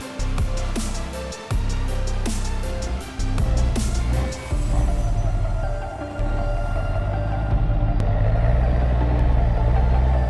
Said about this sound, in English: The roar of the engine mixes with the sound of wood crashing, creating a powerful and mesmerizing industrial scene.